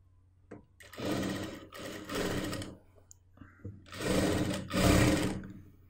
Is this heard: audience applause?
no